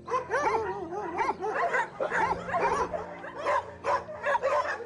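Many dogs at a large home rescue with around eighty animals bark, yip and whine together in a loud, continuous overlapping chorus close by.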